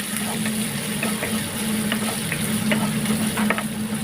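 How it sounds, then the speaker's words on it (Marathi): Asafoetida powder and onion fry in hot oil for Andhra-style dal rasam, giving a continuous close sizzle with scattered crackles and pops over a low steady hum. "व्यवस्थित तेलामध्ये फ्राय करून घ्यायचं आहे."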